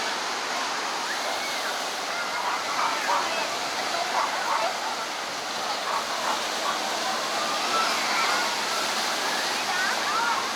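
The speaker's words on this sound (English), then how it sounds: "So this is the rock pool." Seawater washes steadily around the Coogee Beach rock pool in Sydney, Australia, a continuous near surf rush with faint voices mixed into the background.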